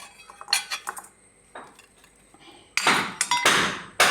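A metal spoon knocks and clinks against a vessel while mixing a sautéed mixture into dosa batter; irregular close clinks and scrapes in bursts, with a louder flurry near the end.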